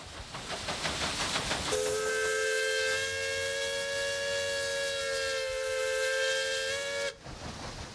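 A steamboat's steam whistle sounds one long, loud, steady blast lasting several seconds over a hissing background, then cuts off abruptly.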